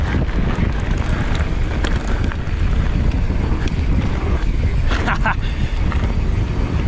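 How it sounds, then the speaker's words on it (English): Strong wind roars and gusts across the microphone without letup, with a few faint higher clicks and rattles mixed in. "It is very windy."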